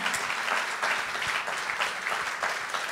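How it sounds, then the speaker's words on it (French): An audience applauds the five speakers after a talk on horizontal governance, continuous even clapping from a room full of people, moderately distant and steady for the whole stretch. "On peut vraiment les applaudir"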